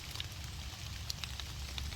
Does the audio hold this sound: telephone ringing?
no